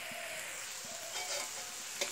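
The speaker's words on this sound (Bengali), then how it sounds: "উনুনের যে আঁচ আছে এই আছে, মুলো ভাজাটা ভালো করে হয়ে যাবে।" Sliced radish frying in a pan over a wood-fired clay stove with the fuel pulled back, giving a steady close sizzle with faint stirring clicks throughout, no talking.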